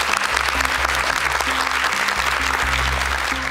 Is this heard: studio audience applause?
yes